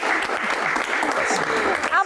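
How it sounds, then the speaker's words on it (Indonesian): Audience applause at a Q&A session with a public figure: a dense, steady wash of clapping that fills the whole moment, with voices talking over it. "Tepuk ya. tangan dong."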